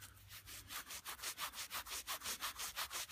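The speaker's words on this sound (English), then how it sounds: "if you get them out of the hole and give them a rub straight away" A freshly dug hammered coin is rubbed clean between fingers in a Shropshire field, a fast even rhythm of gritty scrubbing strokes close up.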